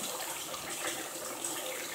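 Water is poured into a pot of mutton curry as it cooks, a faint, steady splashing hiss that runs without a break for two seconds, with no talk.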